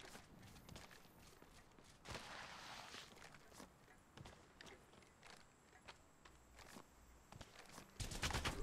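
Gunfire from Apex Legends Mobile, playing the Bangalore legend in a battle: scattered sharp shots and short bursts crack over a steady din of combat noise and movement, with a heavier loud burst at the end.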